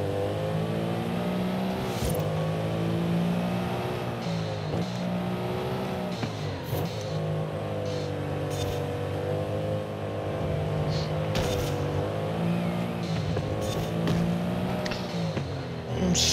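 A 2021 Mercedes-Benz AMG GT Black Series driven hard in Forza Horizon 5, its engine revving up and down through repeated upshifts with brief tire squeal as the car steps out, loud and continuous throughout.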